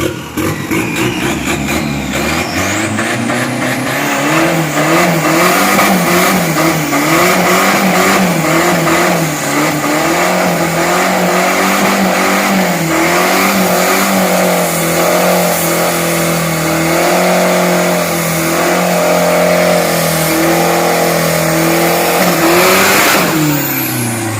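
A turbocharged 3000 street car on thin Kaizo tires makes a 402 m drag run at Khlong 5 track. The engine revs loudly and climbs through the gears, with a sustained roaring pull and rising pitch from start to finish.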